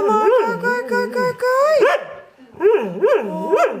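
Barbet, a French water dog and retriever breed, barks and yips in a rapid run of close, loud, pitched barks, pausing briefly before another burst.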